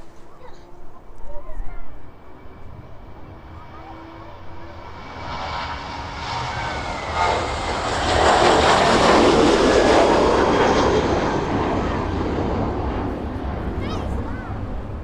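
Jet2 airliner's jet engines on the runway at East Midlands Airport, a broad roar that swells from faint to loud over the middle of the clip and holds steady, with talk over the start.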